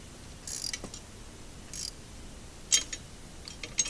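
A deep socket ratchet tightens bolts on a chainsaw carrier for a Polaris Ranger, giving short bursts of fast clicking separated by pauses, close and fairly quiet.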